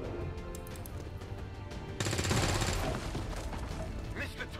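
A burst of rapid video game gunfire from an XCOM 2 soldier's missed shot rattles loudly over a steady backdrop of game music, lasting about a second before fading into the ambience.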